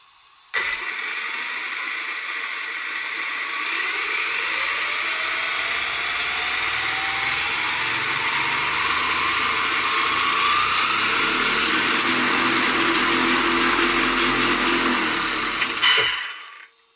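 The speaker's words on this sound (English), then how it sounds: "pull the trigger a bit, you will see the RPM will go up" An Axial Ryft RC car's electric motor on a 4-cell battery revs up under the throttle trigger, a loud close whine rising steadily in pitch for about fifteen seconds before cutting off abruptly.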